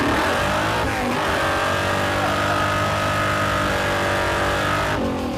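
A muscle truck's engine screams at wide-open throttle on asphalt in a loud, sustained, near rev that holds a high pitch for several seconds before easing off. No one speaks over it.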